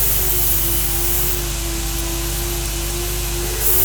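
A spray bottle mists water onto a car's protected paint panel in one close, continuous hiss lasting a few seconds, with no voices.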